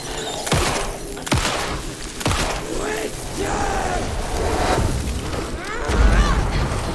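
Flares burst in Alan Wake 2 with sharp booming blasts, three distinct hits in the first few seconds followed by a rumbling, crackling tail, while a voice talks and exclaims over the noise.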